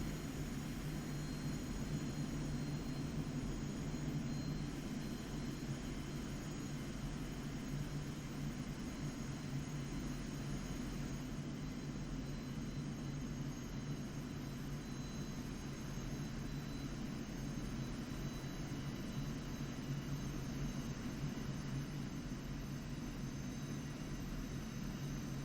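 A Su-25A jet engine in the flight game DCS World, throttled back while slowing to land, gives a steady, continuous roar that fills the whole stretch without a break.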